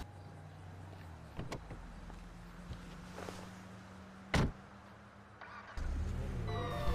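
A car driving in GTA Online, with a steady low engine hum, a couple of sharp knocks or clunks, and the engine swelling louder near the end.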